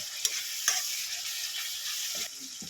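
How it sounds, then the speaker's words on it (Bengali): Ginger garlic paste fries in a pan for fish korma, giving a steady close sizzle with a few sharp scrapes and taps of stirring. "আদা রসুনের পেস্ট দিয়ে দেবো আবারও এটাকে ভালো করে কষিয়ে নেব"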